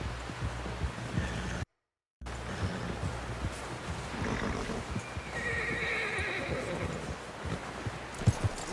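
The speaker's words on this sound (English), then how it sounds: "Someone help John down off this horse." A horse whinnies in the video game Red Dead Redemption 2 amid a busy, noisy scene with clip-clopping hooves and background voices, the sound continuous apart from a brief silent gap.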